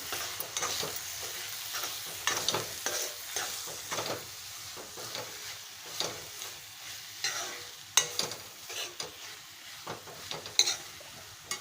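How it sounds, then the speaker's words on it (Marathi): Coarsely ground dry coconut stir-fried into a pan of wild vegetable pods, a soft steady sizzle with repeated scraping strokes of a spatula, quiet and close with no talking. "हे बघा खोबरं मी घातलं आहे जाडसरच वाटलं आहे सुकंसारखं आता व्यवस्थित हे परतून घेते"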